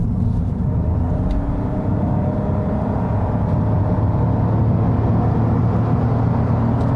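A 2021 Toyota Yaris Hybrid accelerates from about 35 to 90 km/h in power mode, giving a steady, close interior drone and low rumble that builds slightly with no speech.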